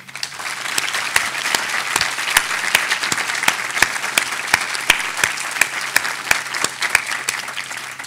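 An audience at a memorial ceremony at William and Mary claps for researchers, a steady wash of applause with a few sharp, distinct claps standing out nearby, rhythmic and sustained.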